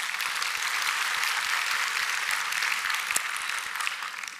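A conference audience claps together in a hall, a loud, dense wash of many hands with sharp individual claps poking through, holding steady for several seconds and easing slightly at the end.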